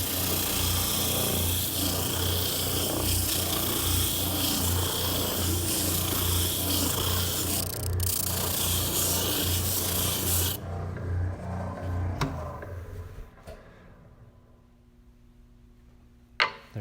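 A spindle sander grinds against a wooden workpiece with a steady loud abrasive rasp and motor hum, then the sanding stops and the machine winds down to quiet, ending with a small knock.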